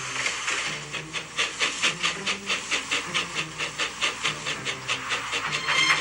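An animated steam locomotive puffs steadily along, its soft hissing chuffs repeating in an even, quick rhythm at close range, with no talking.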